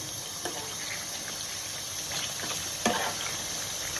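White chicken karahi with cream mixed in a pan over a low flame, giving a steady gentle sizzle with occasional soft scrapes and stirring knocks, no talking.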